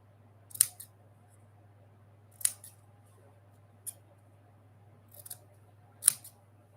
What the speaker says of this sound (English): I'm going to use these micro serrated scissors.